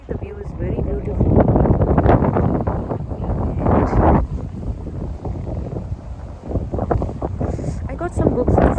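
Strong wind blowing outdoors near the Liberation Tower in Kuwait, buffeting the microphone in loud, uneven gusts that nearly drown out a person speaking throughout.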